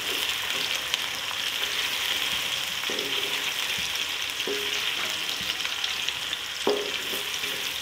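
Onion and whole spices (star anise, black pepper, cinnamon pieces, mace) sizzle and fry in a pot for Hyderabadi pulao, a steady close hiss broken by occasional stirring clatters.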